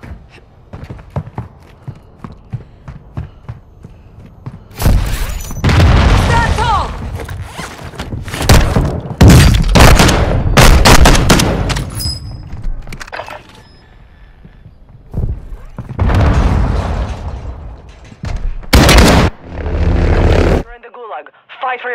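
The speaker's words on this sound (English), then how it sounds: "Requesting ordnance. Position mark. Copy that. Mortar strike." Mortar strike in Call of Duty Warzone 2 on PS5, with heavy booming blasts rolling in close and loud as two long clusters of explosions, with quieter game noise and brief radio voice between them.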